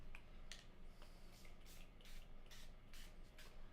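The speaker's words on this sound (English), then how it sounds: "My spray nozzle is not playing ball today." A paint spray nozzle sputters in short, irregular hissing bursts, very faint and close, with small gaps between spurts.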